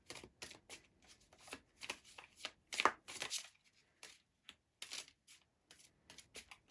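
A deck of tarot cards is shuffled by hand in a series of quick, crisp riffling bursts separated by short pauses, close and fairly quiet, with no talking.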